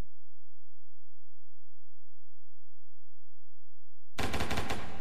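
A loud, sudden burst of rapid automatic gunfire from the Hand Simulator video game breaks in near the end, following about four seconds of near silence.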